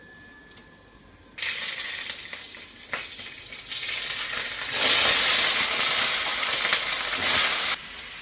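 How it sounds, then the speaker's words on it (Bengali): Panch phoron spices hit hot oil with a sudden loud sizzle that swells, steadies and crackles for several seconds, then drops away abruptly, heard close and alone. "পাঁচ ফোড়ন দিয়ে দিলাম।"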